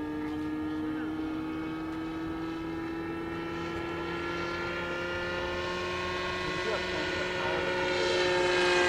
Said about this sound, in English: Front engine is idling right now.